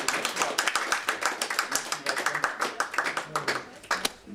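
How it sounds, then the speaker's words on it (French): A small audience claps in a fairly rhythmic, distinct patter of individual hand claps, moderately close, with faint voices underneath. "On peut les applaudir, tous les deux et tous les trois."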